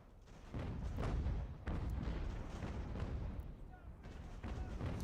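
Artillery fire pounding redcoat troops on an Ultimate General: American Revolution battlefield, a dense rolling roar of booms and crackling volleys that swells and sustains throughout, loud and continuous with brief dips.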